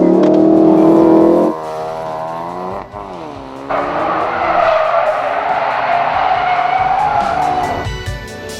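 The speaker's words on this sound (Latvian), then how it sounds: "Starta kontrole. Nav nekas sarežģīts. Pilna gāze." A Ford Focus RS with 350 horsepower makes a full-throttle launch-control start, the engine bouncing loudly off the limiter before the tyres squeal and smoke as the car pulls away, loud and close.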